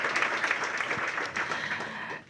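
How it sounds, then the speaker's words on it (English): Sustained applause from an audience at a mayoral workforce plan announcement, a dense steady clatter of many hands that holds for a couple of seconds before thinning out at the end. "Give Andy a big round of applause."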